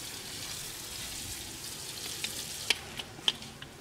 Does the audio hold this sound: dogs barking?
no